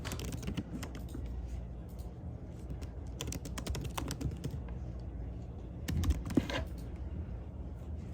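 A website address is typed on a computer keyboard, with soft, close key clicks in quick irregular bursts and short pauses, plus a slightly louder flurry near the end.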